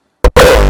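A raw hardstyle kick with no EQ applied: a short punchy hit, a brief gap, then a loud distorted tail sustaining with heavy low end and gritty midrange, alone.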